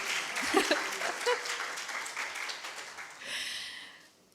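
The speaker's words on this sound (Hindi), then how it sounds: "तो हाँ हाँ बजाएं तालियां, अच्छे से बजाएं" An audience at a book launch at the Arts Council of Pakistan, Karachi, applauds steadily, the clapping swelling and then tapering off, with a voice speaking over it near the start.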